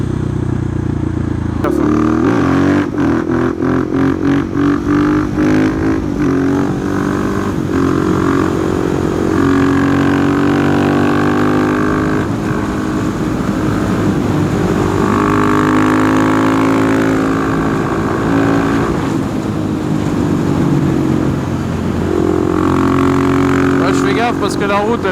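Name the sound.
KTM 690 SMC R motorcycle engine while riding on road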